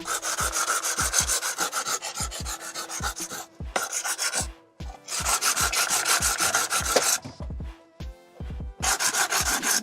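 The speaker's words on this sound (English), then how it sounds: "and then you sand it to smooth it off" A dry coconut shell is sanded by hand, with rapid, rhythmic rasping strokes, close and loud, running in steady bursts with a few brief pauses.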